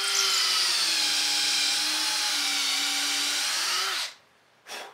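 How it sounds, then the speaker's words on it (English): Power drill with a large bit boring through a knife handle at the back end, a loud steady whining drone that cuts out near the end, then a brief restart. "from the back end, we're going to come in here with a bigger drill bit and try to make all that space line up"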